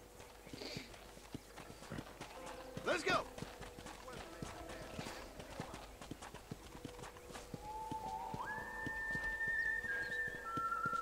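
Warhorse hooves clip-clop steadily in Red Dead Redemption as the horse is ridden, with someone talking over them and brief whistle-like tones rising later.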